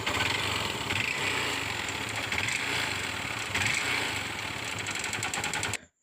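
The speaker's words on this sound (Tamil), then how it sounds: "போர் சத்தம் வருதுன்னு சொல்லிட்டு கஸ்டமர் கொண்டு வந்தாங்க" A Honda Unicorn BS3 motorcycle engine with a bore fault runs steadily and loudly up close, its continuous mechanical rattle and knocking clatter filling about six seconds before cutting off.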